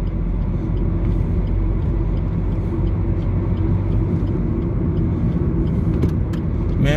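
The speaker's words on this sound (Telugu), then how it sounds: "ఎదుర లారీ చూసారా?" Lorry rumbling on the road ahead, heard from inside a moving vehicle as a loud continuous low drone with brief higher squeals near the end.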